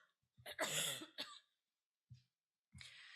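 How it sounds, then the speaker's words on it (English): One person coughs a few times close up: a harsh burst, a second shorter one, then quieter hacks with pauses between. "just a minute, I have to cough."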